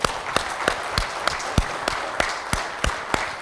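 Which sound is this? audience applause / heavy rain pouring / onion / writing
audience applause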